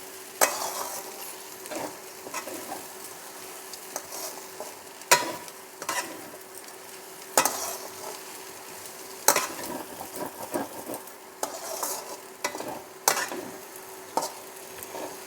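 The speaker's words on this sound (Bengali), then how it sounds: "দিয়ে এটাকে আমি একটু ভালোভাবে নাড়াচাড়া করব, ভালো করে একটু নাড়িয়ে নেব।" Soaked sago and vegetables are stirred in a pan, with a low sizzle under irregular scraping and clacking strokes of the spoon against the pan, fairly close and without talk.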